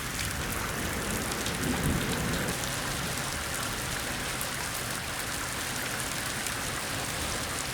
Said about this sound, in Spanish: Y la lluvia no es obstáculo para trabajar, porque necesitamos el agua